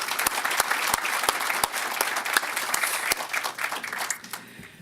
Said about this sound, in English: Jeff, stand up so we can give you a round of applause.